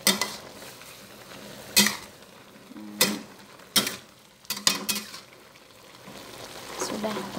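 Choy sum and fish stir-fried in a pan are stirred with a utensil, giving sharp metal clanks and scrapes in uneven bursts over a soft, steady sizzle.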